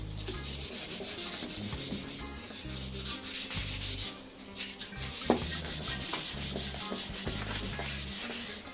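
An outdoor sports chair is hand sanded with fine-grit sandpaper in a steady back-and-forth rhythm of close, scratchy rubbing strokes, with one brief pause midway.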